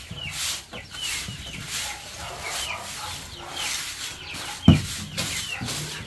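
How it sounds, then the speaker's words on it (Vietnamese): Chickens in a farmyard coop with straw bedding cluck and call faintly, with scattered short calls over low background noise and a brief sharp knock near the end. "Gà ăn chưa mà nó kêu nó quang này"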